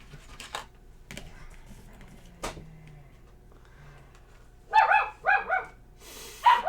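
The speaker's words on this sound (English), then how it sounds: "we're going to hear dogs barking throughout this. That is a 9-week-old puppy that I have in the house" A 9-week-old puppy indoors gives several sharp, high yips and barks in quick succession near the end, after quieter clicking and tapping sounds.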